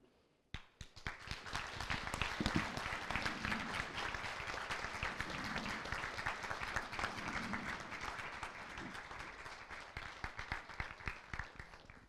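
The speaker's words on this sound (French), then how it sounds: "On peut l'applaudir de nouveau" An audience claps at a doctoral ceremony, a sustained round of many hands that starts abruptly, stays steady and thins slightly toward the end, heard from within a fairly quiet hall.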